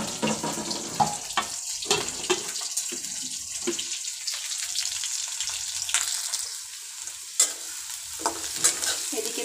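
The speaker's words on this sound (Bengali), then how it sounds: "এদিকে পেঁয়াজ দিয়েছি পেঁয়াজটা একটু লাল করে ভেজে নেব" Onions fry in a pan while a utensil stirs and scrapes them, giving steady clattering and sizzling with a few sharper knocks. No voices are heard.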